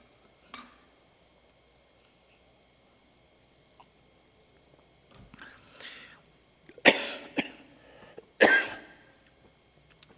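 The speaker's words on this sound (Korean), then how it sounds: "위에서는 기침을 안 하는데 여기에만 서면 기침이 나옵니다." A few separate coughs and throat-clearing sounds come close by in a quiet church during a sermon, the last two louder and harsher.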